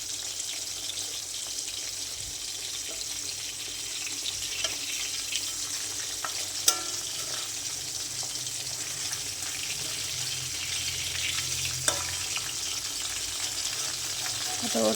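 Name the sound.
frying large pabda fish in a pan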